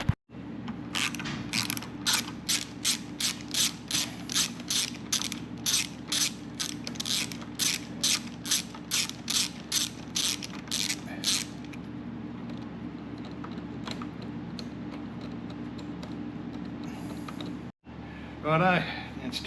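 Ratchet wrench clicking in a fast, even series while the tank screw is released on a Triumph Rocket 3 GT motorcycle, close and clear, then stopping and giving way to a steady mechanical hum.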